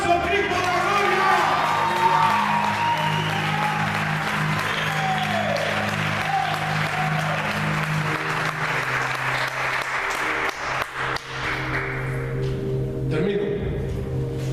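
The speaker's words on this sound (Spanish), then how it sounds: "Denle un aplauso a Cristo de la gloria." A church congregation claps and cheers for Christ, steady applause with some whoops, while a voice carries over it and music tones hold underneath, the clapping thinning toward the end.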